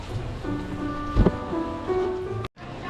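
Rain falls on a street in Hoi An, Vietnam, as a steady, soft wash of patter with a brief louder knock partway through and a short dropout near the end. No one speaks.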